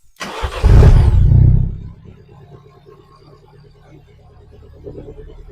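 A Citroen C3 Picasso engine with no exhaust fitted cranks briefly, then catches with a loud rev before settling into a low, uneven idle.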